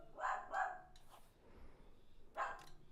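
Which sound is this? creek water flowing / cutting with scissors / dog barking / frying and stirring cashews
dog barking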